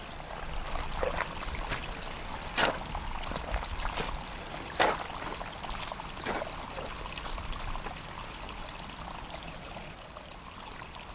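Water flows and trickles steadily down a nearby ditch, with a couple of brief splashy pops along the way.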